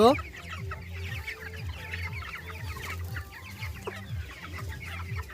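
Broiler chickens on straw bedding in a farm shed cluck continuously in a dense, overlapping flock chorus, with a steady low mechanical hum underneath.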